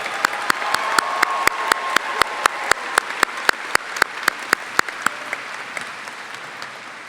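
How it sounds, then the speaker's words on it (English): Steady applause from an audience at a school honors awards show fills the room, with a few sharper regular claps standing out over the continuous wash of hands. "Let's give them all one more round of applause."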